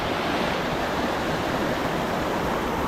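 Lang Sang Waterfall in Thailand pours in a constant, loud, broadband roar, steady throughout with no voices.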